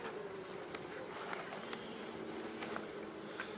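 Honey bees humming steadily inside an open hive, a continuous close buzz with occasional sharper individual wingbeats passing near.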